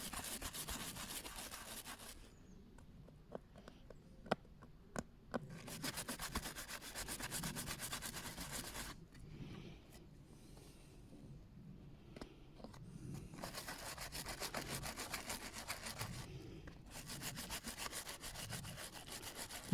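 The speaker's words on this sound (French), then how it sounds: "On est reparti à la brosse dure." A Gardena robot lawn mower being scrubbed with a hard brush during winter-storage cleaning: repeated bursts of steady, close brushing rub, separated by short pauses, with no talk.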